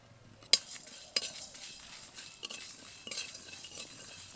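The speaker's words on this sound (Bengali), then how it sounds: "শুকনো মশলাগুলো ভাজা হয়ে এসেছে" Whole coriander, cumin, fennel and dry red chilli are stirred in a pan, with a few sharp metal spoon clinks over a faint, quiet dry sizzle.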